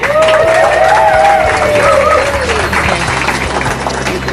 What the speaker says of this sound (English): So please give a big round of applause and dig deep, people.